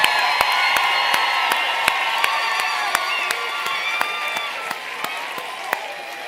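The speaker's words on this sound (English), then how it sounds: "Let's give a round of applause" A graduation ceremony audience at the University of South Africa's 2025 spring graduation breaks into sustained, dense applause mixed with cheering and whoops, with sharp individual claps standing out above the steady crowd roar.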